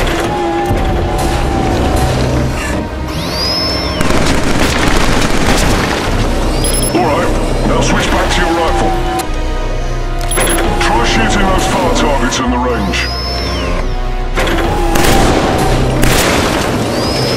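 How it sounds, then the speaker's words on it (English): Pistol shots ring out at a shooting range in Killzone 3, sharp reports scattered over about seventeen seconds amid a busy game soundscape, with a voice talking over them. "Take the pistol on the counter. Destroy the close targets on the range."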